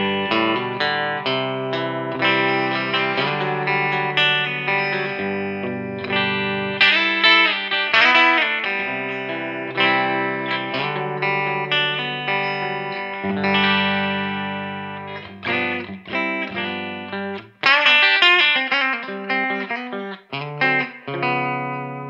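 Les Paul Junior electric guitar on a clean tone with the tone knob rolled back halfway, warm and slightly muted, notes and chords played steadily with gentle sustain, no talking.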